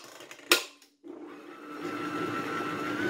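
Almond shortcrust dough being mixed with flour: a sharp knock, a brief pause, then a mixing machine whirs up and runs steadily, close and moderately loud.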